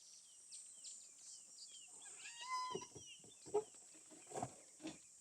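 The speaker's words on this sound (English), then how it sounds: "I can now hear European bee eaters" European bee-eaters call on an African safari, their faint, liquid trilling notes coming in short bursts over a quiet background, with a few louder chirps from other birds nearby.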